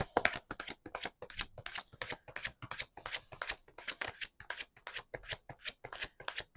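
Tarot cards being shuffled in rapid, steady riffles, a crisp run of close, moderately quiet flutters repeating for several seconds with no talk.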